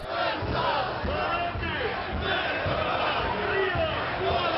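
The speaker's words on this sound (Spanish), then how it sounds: "mientras se vitorea al héroe nacional" Crowd at a nationalist torch procession in a city square cheering and chanting for a national hero, a dense, continuous roar of many voices with rising shouts throughout.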